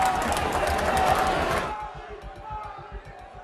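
Audience applause at a poetry recital: a loud, dense burst of clapping and crowd noise for under two seconds, then it drops away into a low rumble and faint voices.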